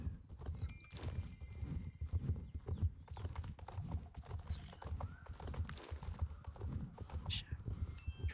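Hooves clip-clop steadily from a horse ridden through the Hollow Woods in the video game Star Stable Online, close and continuous, with occasional faint whinnies and soft background game ambience.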